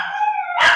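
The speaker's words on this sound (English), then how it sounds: "now my dogs are going crazy" Several dogs howl together in a long rising, wavering tone, close and fairly loud, ending in a sharper bark-like burst with no talk.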